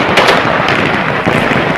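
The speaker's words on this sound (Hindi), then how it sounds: "तालिबान के फाइटर्स काबुल की सड़कों पर आए और देखते ही देखते ताबड़तोड़ फायरिंग" Taliban fighters fire celebratory gunfire in the streets of Kabul: a fast, dense run of loud cracking shots, close and continuous, with bursts overlapping throughout and no talking.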